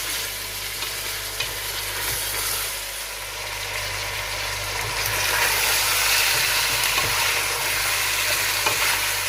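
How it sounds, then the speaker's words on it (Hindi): Mutton fries hard on full heat in a pot, giving a loud, continuous close-up sizzle with occasional stirring scrapes and no pauses. "इसको थोड़ी देर 2 से 4 मिनट फुल आंच पे भून लेंगे"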